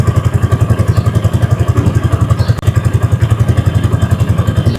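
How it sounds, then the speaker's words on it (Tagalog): A Yamaha Sniper 155 motorcycle idles close by, its exhaust giving a fast, steady, loud thumping pulse with a slight clatter for the whole stretch, no talking over it. "so parinig naman natin yung kanyang tambutso"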